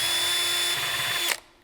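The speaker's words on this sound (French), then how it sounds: "on perce le fond de l'extincteur" A power drill bores through the bottom of a fire extinguisher, a steady loud whirring whine that runs for over a second before stopping abruptly as the bit breaks through and spins down.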